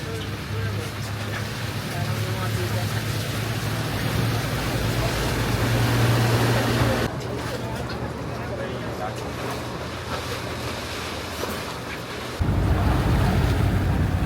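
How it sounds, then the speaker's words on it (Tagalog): Barge ride on Sun Moon Lake in Taiwan, with a steady roar of wind and water rushing past the hull and a low engine drone throughout, close and loud, with a sharp shift in the rumble near the end. "Nakasakay po kami sa barge."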